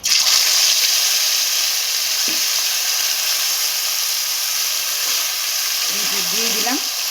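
Marinated chicken pieces going into a hot pot for hotel-style chicken biryani produce a loud, steady, close sizzling hiss throughout, with a brief faint voice near the end.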